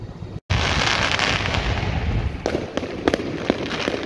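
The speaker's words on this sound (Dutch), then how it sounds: "ze hebben mooi vuurwerk op het Rooidorp" Fireworks crackle and pop in the distance in Alkmaar, a dense steady rumble of bursts with a few sharper, louder bangs toward the end.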